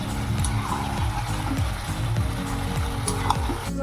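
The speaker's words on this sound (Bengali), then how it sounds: "জলটা যতক্ষণ না শুকায় ততক্ষণ আমি কষাতেই থাকবো" Masala sautéing in a pan until its water dries off, a steady close sizzle with a spatula scraping and stirring throughout, loud and continuous with no talk.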